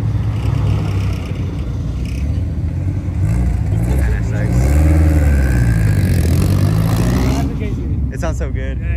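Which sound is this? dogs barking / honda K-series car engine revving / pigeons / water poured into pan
honda K-series car engine revving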